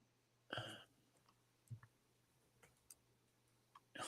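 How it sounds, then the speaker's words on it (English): Keys on a keyboard click sparsely: a handful of light, separate taps spread over a few seconds with quiet gaps, close by and alone. "Hold on, I'm typing."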